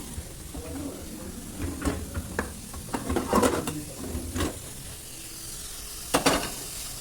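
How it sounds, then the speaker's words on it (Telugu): Spices for pulihora tempering in hot oil, giving scattered sizzles and sharp crackling pops over a low frying hiss, with a few louder bursts and some background voices. "ఫస్ట్ ముందు పోపు అయితే వేసుకుందాం."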